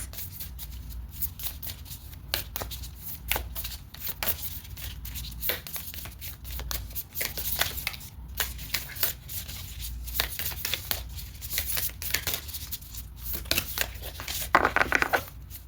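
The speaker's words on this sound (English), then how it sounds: "Hard to shuffle." Cards being shuffled over and over, with quick riffling bursts and soft papery flutters coming in uneven waves, close by.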